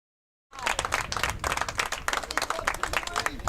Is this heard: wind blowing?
no